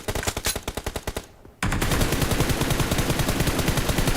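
Rapid automatic gunfire in the battle royale game PUBG, loud close bursts of evenly spaced shots, a brief pause, then a dense sustained volley of fire.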